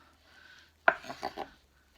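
Sharp knife chopping through a tomato on a cutting board: one crisp first cut followed by three softer, evenly spaced slicing strokes, close and fairly quiet with no talking.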